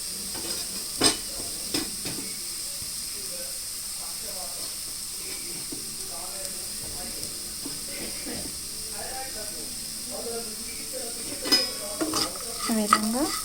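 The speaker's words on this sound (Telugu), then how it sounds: "బాగా కలిపేసుకోవాలి" Potato fry is mixed with chopped coriander and sprinkled masala in a pan just off the stove, with a soft lingering sizzle and scraping stirs, plus a few louder clanks and faint background voices.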